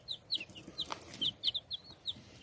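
A dozen baby chicks in a cage peep in high, repeated chirps, about a dozen short calls scattered over a soft background, close and fairly faint.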